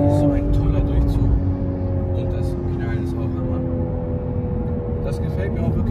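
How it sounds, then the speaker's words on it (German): A 2023 Toyota Supra 3.0 GR accelerating in third gear, its engine a steady, loud droning hum with a rising tone heard from inside the car. "Dritter Gang, es ist wirklich so ein toller Durchzug."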